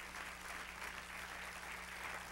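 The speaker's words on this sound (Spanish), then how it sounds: "dar un aplauso otra vez al Señor" A church congregation applauding during a sermon, a steady, dense wash of many hands clapping at once, moderately distant and even in level with a low hum underneath.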